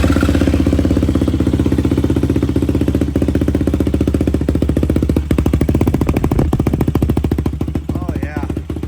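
A Yamaha YFZ450 ATV engine with a spark arrestor exhaust runs close by, a loud, fast, steady thumping idle like a jackhammer, holding even throughout with only small wavers in pitch.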